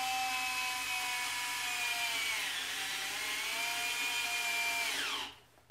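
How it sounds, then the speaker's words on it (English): A power driver sinks a self-tapping screw, its motor whining steadily and loud up close for about five seconds, the pitch dipping slightly under load before it abruptly cuts off. "gets screwed down with a self-tapper."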